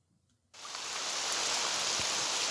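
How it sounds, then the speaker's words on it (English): Steady rain falls on a loch at Eilean Donan Castle in the Scottish Highlands, a dense, even hiss that starts suddenly and stays constant and close, with no voices. "Rain on the loch at Eileen Donan Castle in the Scottish Highlands."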